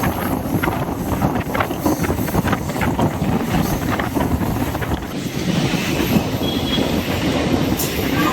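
A passenger train runs along the rails near Perambur station in Chennai, a steady loud rumble of wheels and carriages with rhythmic clatter and wind buffeting throughout, heard from on board.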